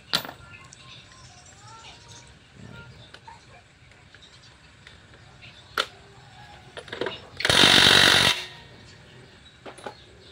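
A Honda Click scooter brake repair: one loud burst of an impact wrench driving a screw lasts about a second. Scattered clinks and light tool knocks are heard before and after.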